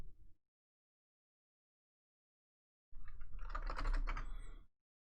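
Typing the ipconfig command on a computer keyboard: a short tap, a pause, then a quick close burst of keystrokes lasting under two seconds in a quiet room.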